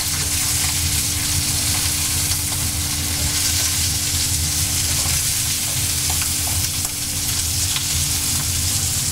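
Meat sears skin-side down in a hot frying pan, making a loud, steady, unbroken sizzle with a faint low hum underneath and no voices.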